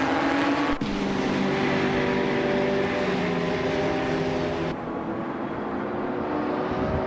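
Race cars in a video game battle closely around the Road Atlanta short track, a steady loud multi-engine roar with layered tonal whines that shifts pitch as cars jostle, one engine note dropping away midway.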